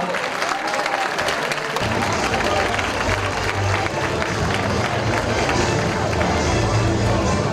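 A large audience at a 2015 magazine awards ceremony breaks into loud, sustained applause as a musician is welcomed onto the stage, a dense wash of clapping and crowd noise that runs throughout.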